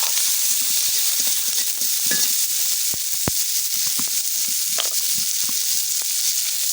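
Onion, whole cumin, bay leaves and chopped green chilies fry in hot oil for a pumpkin bori curry with vegetable stalks, eggplant and potato, giving a steady, close sizzle with scattered pops and crackles throughout and no talking.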